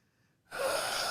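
A man mimics heavy breathing into a podcast microphone, one sudden loud rushing breath that starts after a near-silent pause and holds steady, close up.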